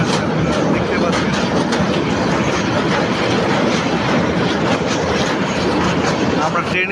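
Loud, continuous rumble and rattle of a train crossing the Bhairab bridge, heard from inside the carriage with steady roar and faint clatter throughout.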